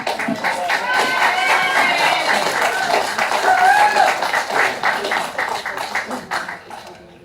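Clapping from the audience at a special council meeting breaks out and holds steady as a dense patter mixed with murmuring voices, then thins and fades toward the end.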